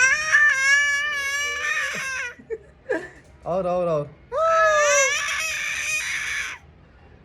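A baby cries and wails in loud, rising bursts indoors at home, with a brief pause midway before another long screaming cry; an adult voice is heard briefly.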